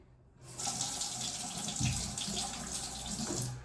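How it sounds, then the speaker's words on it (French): Hot water running from a bathroom sink tap into the basin, a steady close hiss and splash that starts abruptly after a brief quiet moment and continues unbroken. "Donc, j'ouvre le robinet. Je vais mettre l'eau chaude."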